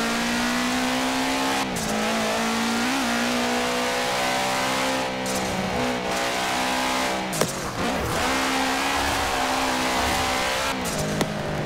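A Subaru Impreza WRX STI engine in the racing game Forza Horizon 4 drones steadily at high revs, with pitch dips as it shifts gears and brief tire squeals.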